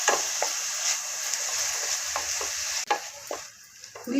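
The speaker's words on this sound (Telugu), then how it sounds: "ఉల్లిపాయలు ఎర్రగా వచ్చేంత వరకు వేపుకోవాలి." Onions, curry leaves and green chillies fry in hot oil for a mutton keema curry, a steady close sizzle with a few scraping stirs and a brief dip near the end.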